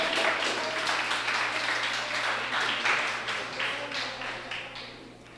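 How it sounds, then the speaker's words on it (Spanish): A church congregation breaks into sustained applause for the Lord, a dense wash of many hands clapping at once that holds steady and fades slightly toward the end. "Denle un fuerte aplauso al Señor."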